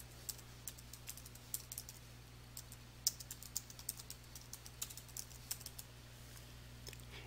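Keys clack on a computer keyboard as a name is typed into an accounting software field, a quiet run of irregular close taps over faint steady room hum, with no talking.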